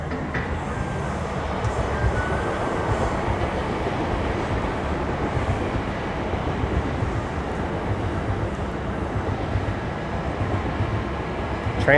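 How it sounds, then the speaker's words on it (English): A Tokyo Metro train runs on an overhead line near Shibuya Station, making a continuous low rumble and rattle that fills the street scene at a steady, moderate level without pause. "Train line overhead."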